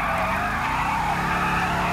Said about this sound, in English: We got the Hulk just sitting on it and it's still doing a burnout.